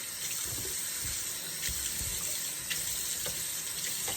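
Water runs steadily from a tap into a bathroom sink fitted with a universal pop-up stopper, a constant splashing rush with small bubbling knocks throughout, fairly close and alone.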